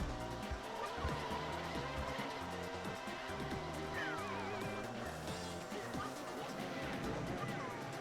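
Kart drift skid in Mario Kart DS, a squealing tire slide riding over steady engine whine and busy game music, with a person talking over it throughout.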